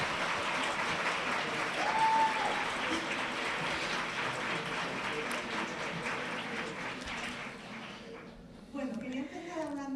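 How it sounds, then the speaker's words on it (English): A festival audience applauds author Jay Kristoff with sustained, steady clapping that fills the hall, fading slightly toward the end as a voice starts speaking over it. "So big round of applause for J."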